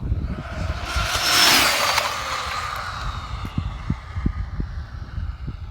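An Arrma Infraction V2 RC car with a high-speed pinion gear whooshes past at top speed, its whine swelling near the listener then fading into the distance, followed by scattered outdoor ticks and rustles.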